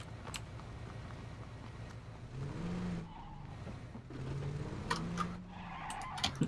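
Squealing brakes on a minivan in the video game PUBG, a harsh high-pitched skid over a steady engine drone, with the tonal squeal rising and falling in several bursts close up.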